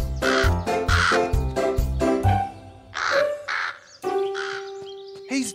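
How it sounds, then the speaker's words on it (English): A cartoon crow caws loudly among apricot trees, several harsh calls in a row mixed with bright musical tones and cartoon voices. "That naughty crow!"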